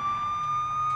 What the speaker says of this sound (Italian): E via, sirene spiegate